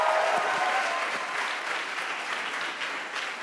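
Audience applause fills a closing ceremony of a youth conference with over 1,300 participants, a steady dense wash of clapping that stays loud throughout, easing slightly after the first second, with a few faint cheers mixed in.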